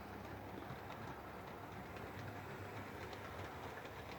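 An OO gauge Lima BR216 model locomotive runs through a tunnel, giving a steady, muffled rolling rumble with faint rhythmic clicking of wheels on track that holds at a constant level.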